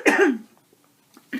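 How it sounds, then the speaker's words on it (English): A short burst of coughing up close, followed by a quiet pause and a couple of faint throat sounds near the end. "I'm messing up your good vibes by coughing"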